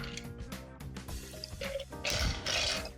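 A short burst of an Old Fashioned cocktail pouring over a clear ice cube in a rocks glass, preceded by faint clicks, with music playing underneath.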